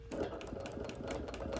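A sewing machine outline quilting around embroidery on a busy print runs in a steady, close, continuous hum with quick needle rattle throughout.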